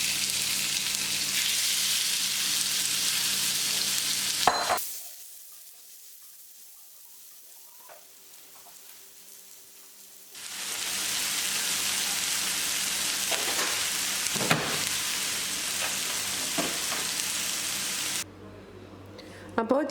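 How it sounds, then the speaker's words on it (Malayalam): Chicken pieces fry in a tablespoon of ghee in a pan, a moderate, steady hiss that fades out for several seconds and then returns, with a few faint clinks. "ചിക്കൻ ഇട്ട് കൊടുക്കുക."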